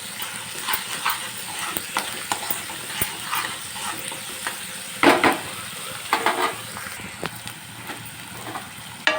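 Onions with green chili paste fry in a pan, giving a continuous sizzle with recurring stirring scrapes and clatters, louder near the middle.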